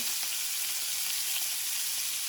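Scallops sear in a hot pan with a steady, close hiss of sizzling that holds even throughout, with no voices.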